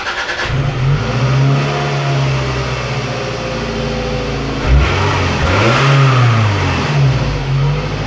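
A 2001-2003 Toyota RAV4 engine with a new stainless exhaust revs up and down twice, with a loud, close mid-pitched rise and fall over a steady idle. No one speaks.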